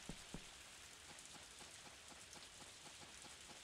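Rain falling in the farming video game Story of Seasons: A Wonderful Life, a steady soft hiss with faint, regularly spaced droplet ticks throughout and no talking.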